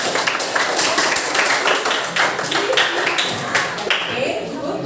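Students in a classroom clap together for a classmate during an English lesson, quick uneven claps and taps scattered across several seconds, with the teacher's voice and room chatter woven through.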